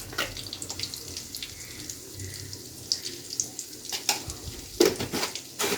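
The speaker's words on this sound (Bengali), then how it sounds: "এবার আমি হাতটা ধুয়ে নিই।" Running tap water splashing over hands at a kitchen sink during home cooking, a steady close wash with a few sharper splashes and clinks near the end.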